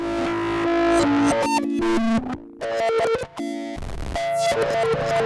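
Gritty, overdriven synthesizer notes through an Ohmforce Ohmicide Eurorack distortion module jump between pitches in abrupt, glitchy bursts, with a few short dropouts and a dense, buzzing distorted texture.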